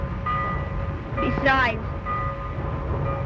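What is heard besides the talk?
freight train arriving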